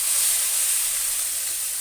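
Fresh greens slid into hot oil in a pan where pabda fish is being cooked give a steady, even sizzling hiss that carries on without pause and fades slightly toward the end.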